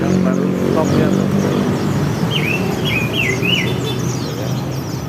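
Caged songbirds, including white-eye pleci, chirp at a bird market kiosk in short, bright, rising calls repeated a few times. They sound moderately close over a busy murmur of market noise and nearby people talking.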